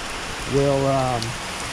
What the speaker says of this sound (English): It won't stop raining here, people.